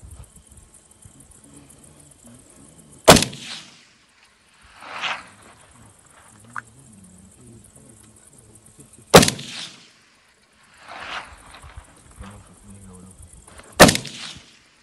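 Three sharp, loud rifle shots from a Saiga MK-03 ring out evenly spaced, each followed a second or two later by a faint, delayed ring of a steel gong 413 m away, with crickets in quiet dusk ambience between.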